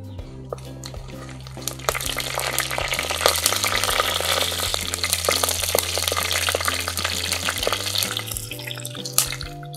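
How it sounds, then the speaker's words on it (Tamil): Mustard seeds and dried red chillies fry in hot oil as a tempering for drumstick leaves curry. A dense, steady sizzle carries scattered sharp pops, with a low tonal music bed playing underneath throughout. "கடுகு நல்லா பொரிஞ்சிருச்சு, காஞ்ச மிளகாய் போட்டுக்கலாம்."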